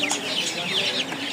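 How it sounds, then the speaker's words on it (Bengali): Tiger breed chickens of large size cluck and squawk nearby in a quick run of rising, warbling calls lasting just over a second, with some background noise. "এই হচ্ছে টাইগার মুরগি, এগুলো বড় সাইজ,"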